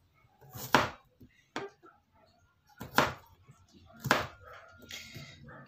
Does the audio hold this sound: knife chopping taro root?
yes